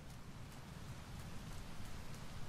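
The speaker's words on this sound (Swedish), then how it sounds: "Oj vad det regnar." Steady, even rainfall in the video game Teardown patters continuously, a dense hiss of drops with no voices over it.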